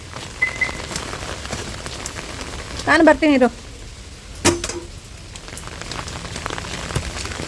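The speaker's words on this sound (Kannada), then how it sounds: "ಓ ಜೋರೇ ಆಯಿತು ಮಳೆ." Heavy rain pours down steadily outdoors among trees, a dense hiss throughout, with a person speaking briefly partway through and a short burst of rattling in the middle.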